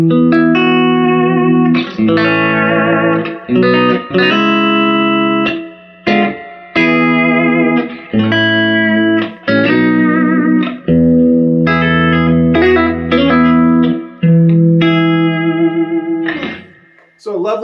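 Electric guitar through an original 1964 Fender Vibroverb amp with the bright switch off plays clean, warm chords and single-note runs with reverb and tremolo, loud and close, with brief pauses between phrases.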